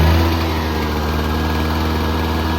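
Honda EX350 two-stroke inverter generator engine running loud and close, a steady droning hum with a brief shift in pitch at the start as the revs change.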